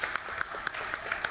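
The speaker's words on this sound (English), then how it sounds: "Can we clap it up again for Sari, y'all?" Audience applause, a steady patter of many hands clapping at moderate loudness with a few sharper claps standing out.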